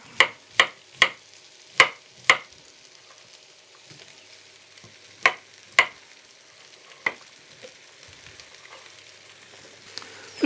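Cauliflower pieces frying in oil in a small pan give a low, quiet sizzle, broken by a series of sharp clacks from stirring or tossing, several in quick succession early on and a few more spaced out later.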